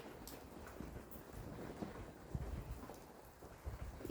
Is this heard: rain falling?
yes